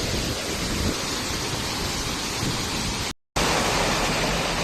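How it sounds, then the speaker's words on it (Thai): Tad Lot waterfall in southern Laos near Pakxong gives a loud, unbroken hissing roar of falling water up close, interrupted once by a brief silent gap before the rush resumes. "ก็เป็นน้ำตกตาดหลอด"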